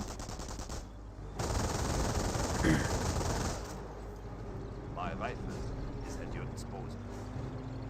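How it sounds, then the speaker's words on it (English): An MG42 machine gun in Company of Heroes rattles in a sustained burst at moderate distance, then fades under a commentator's steady talk. "MG42 gains good suppression on these forces."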